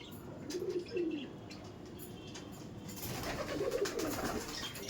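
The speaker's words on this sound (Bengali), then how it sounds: "অনেক বিগ সাইজের পায়রা আছে" Giribaj flying pigeons in a loft coo softly in two short bouts, a soft throaty warble heard close over quiet background hiss.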